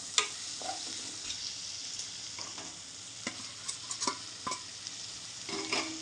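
Tomatoes being stirred into a sizzling chicken curry made with tamarind, a utensil scraping the pan in a handful of distinct strokes over a steady, close fry.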